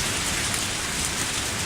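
Steady, dense rain pours down in the Lucky Dog 1 visual novel video game, a continuous even hiss of drops on surfaces that holds loud and unbroken throughout with no voices.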